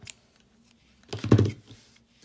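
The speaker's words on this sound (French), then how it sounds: "on va le couper." Scissors cutting crochet yarn for a small coaster doily, a single short close snip after near silence, with a soft tick just before it.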